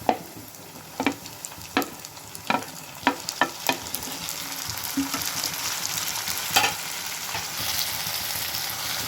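Onion and tomato stirred in a frying pan, a string of distinct spatula knocks and scrapes over a steady sizzle that continues on its own after the stirring eases off.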